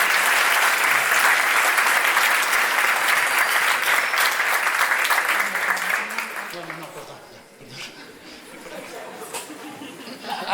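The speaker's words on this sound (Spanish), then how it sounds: "Un aplauso y vamos a ver si entendieron todo." Audience applause at a live Colombian outdoor event, loud and continuous for about six seconds before fading into scattered clapping, chatter and light laughter.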